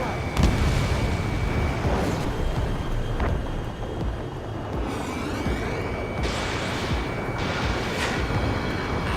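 Missile launches and explosions in the aerial combat game Ace Combat 7: Skies Unknown, a dense, continuous roar with rising whooshes and heavy blasts, muffled radio voices faintly underneath.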